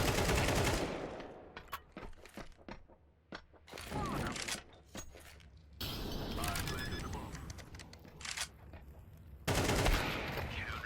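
Bursts of AK-47 automatic fire in a first-person shooter game, loud rattling volleys broken by brief pauses, with someone talking over parts of it.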